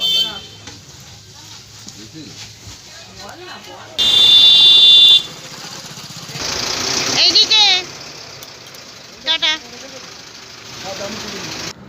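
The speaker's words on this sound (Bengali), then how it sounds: "বাস তো দুটো হুইসেল দিয়ে বেরিয়ে গেল" A bus horn gives two short blasts as the bus pulls away, loud and close, over a steady idling engine with people talking nearby.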